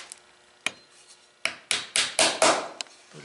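A hammer drives nails into a wooden aircraft wing rib, a few scattered taps followed by a quick run of sharp, close strikes in a steady rhythm.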